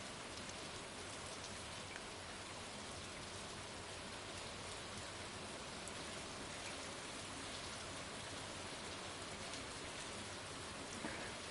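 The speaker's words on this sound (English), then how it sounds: "I think the sound of rain is probably my favourite" Steady rain falls in the farming video game Stardew Valley, a soft, even hiss of drops that continues unbroken and fairly quiet throughout, with no voices.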